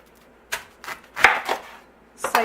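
Knife slicing the end off a microwaved corn cob, a few separate cutting taps and crunches with a brief rustle, close and fairly quiet with no talk.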